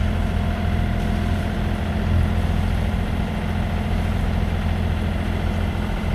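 A sailboat's engine motoring along on a passage up the north of Euboea, Greece, giving a steady, unbroken low drone with an even rumble throughout and no voices.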